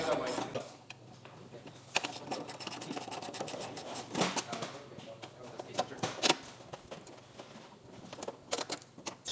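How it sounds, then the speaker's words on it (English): A ratchet or hand tool works loose the 10 mm bolts along the top of a Tesla Model 3 front bumper, giving close, repeated rasping clicks and scrapes in uneven bursts. "And then you have 1, 2, 3, 4, 5, 10 mils on the top here that we're gonna remove right now."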